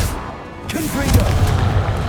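A magical blast spell bursting in Hogwarts Legacy, a deep booming impact with a rumbling tail in the middle of spell-casting combat.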